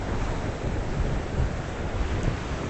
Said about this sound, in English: The winds are straight out of the east on shore this morning, so it's kicking up the waves and the white caps.